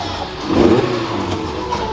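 A car engine revs hard at a car meet, the roar swelling sharply about half a second in and then holding at a steady loud level for the rest of the short stretch, with no talk over it.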